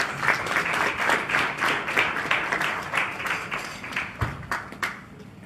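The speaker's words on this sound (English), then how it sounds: "Shall we give him a round of applause?" Steady audience applause in a hall at a government media briefing, many hands clapping continuously and fairly loud, with a few sharper individual claps standing out before it thins near the end.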